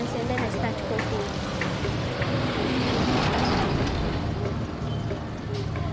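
Cars pass along a London street, producing a continuous, fairly loud wash of traffic rumble and tyre hiss with no single vehicle standing out.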